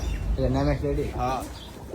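Pigeons cooing in a coop, a few warbling low coos close by, overlapping with people talking.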